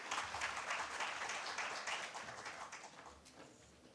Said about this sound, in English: May I have a round of applause, please?